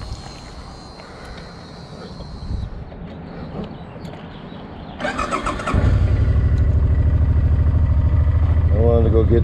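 A Suzuki M50 motorcycle engine starts, cranking briefly before catching and settling into a loud, steady, close idle rumble, with someone talking nearby beforehand.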